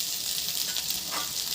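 Steady, close frying sizzle of okra (bhindi) hitting hot oil with sautéed onions in a home kitchen pan, a continuous bright hiss with no voices.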